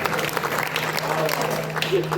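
An audience claps together at a Marathi kirtan held for a saint's death anniversary in Andarsul, a sustained burst of indoor applause mixed with a low hum and faint murmurs.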